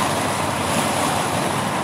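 Strong river current in flood pushing against a ferry pulled by two tugboats, a dense, loud, steady rush of water noise with a low rumble, no talking.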